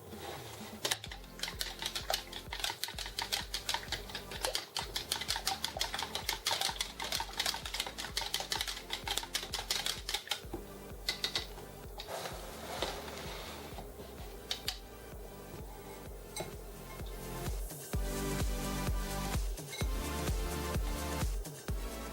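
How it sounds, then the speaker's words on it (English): An egg is whisked by hand in a bowl for buttermilk pancake batter, giving a dense, fast run of close, loud metallic clicks and taps with brief pauses and no talk. "you'll want to whisk this up and then add it into this"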